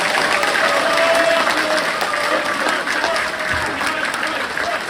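Party members at a People Power Party new year event in Gwangjin applaud Ahn Cheol-soo, a loud, dense and steady wash of crowd clapping that fills the whole stretch.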